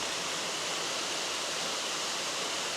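Kondilla Falls pours in a steady, unbroken roar of falling water, a dense even hiss that holds at the same level throughout with no voices or other sounds.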